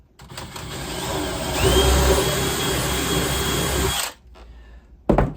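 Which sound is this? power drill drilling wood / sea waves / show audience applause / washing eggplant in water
power drill drilling wood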